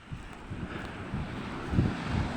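Waves and wind at sea near small boats after a storm, a gusty roar of microphone wind buffeting over low surging water, with uneven swells and no voices.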